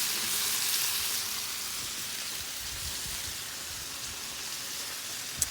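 Chicken noodles frying on a Blackstone griddle, a steady, close hiss and crackle of sizzling that keeps an even level throughout, with one sharp click near the end.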